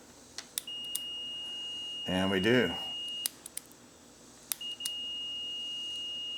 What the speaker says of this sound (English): I have the meter in the sound mode, so when I turn the switch on I should hear a beep